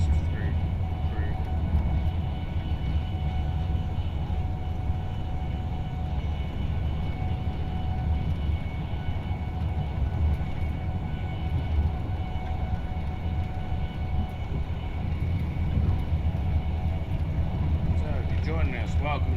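Class 390 electric train cruising at speed in Train Simulator on the West Coast Main Line, a steady low rumble and hum running continuously with no breaks.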